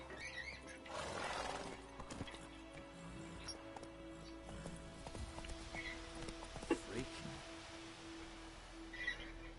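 A horse in the video game The Witcher 3 whinnies once early on, followed by soft hoof clip-clops and quiet game ambience with a steady background hum, all fairly faint.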